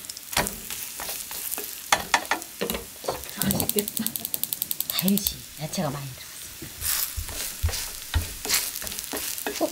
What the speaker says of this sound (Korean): 노릇노릇하게 굽면 돼요.